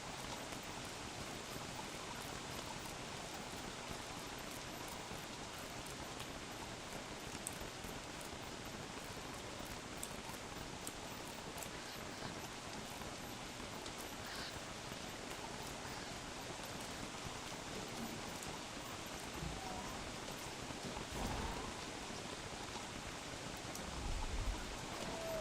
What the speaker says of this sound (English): looks like the frog rain finally stopped